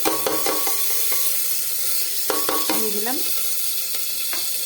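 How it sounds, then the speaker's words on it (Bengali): Cumin, dried chilli, bay leaf and garam masala sizzle steadily in hot oil for a pressure-cooker khichuri, a loud continuous crackle with a few sharp pops and a brief spoken phrase near the end. "সব রকম ফোড়ন দিয়ে দেবো, জিরে, শুকনো লঙ্কা, তেজপাতা আর গরম মশলা"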